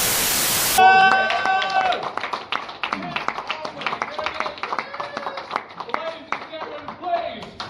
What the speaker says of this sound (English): Keep that applause going for our very first act.